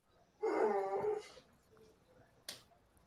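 A dog lets out a single whining, yelping bark-whimper, fairly close, followed by a short sharp click or snap a moment later; no speech over it.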